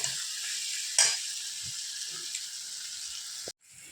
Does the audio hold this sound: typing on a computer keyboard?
no